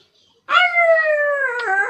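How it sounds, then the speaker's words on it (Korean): An old neighbourhood dog gives a long, drawn-out howling bark, one sustained wavering call that starts abruptly after a brief silence and stays loud and close. "옆집개가 자꾸 짖더라고"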